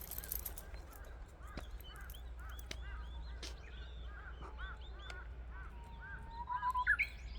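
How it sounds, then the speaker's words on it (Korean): A songbird singing outdoors in the countryside in spring, with repeated clear whistled phrases and chirps over a low steady background hum, ending in a rising high note, moderately distant and soft. "와이 새소리 정말 성대 기름지죠."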